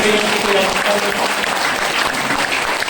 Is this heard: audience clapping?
yes